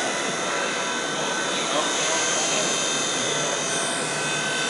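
V911 version 2 RC toy helicopter in flight, a steady high-pitched whirring buzz of a small motor and rotor, close and continuous.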